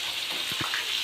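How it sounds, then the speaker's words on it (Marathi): Mushrooms fry in hot oil, a steady close hiss with two short thuds near the middle as pieces drop into the pan. "आपण एक एक करून मशरूम सोडूया. त्याला आपण 1 ते 2 मिनिटं कडक करूया फ्राय."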